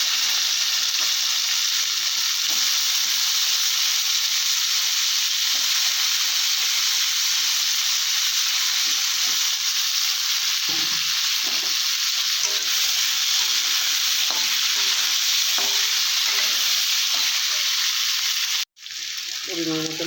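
Potatoes sizzling and frying steadily in a pan with oil for a long stretch, broad hiss with faint stirring clicks, ending with a brief break and a short voice at the very end.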